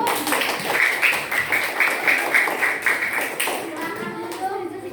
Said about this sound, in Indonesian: tepuk tangan kalau setuju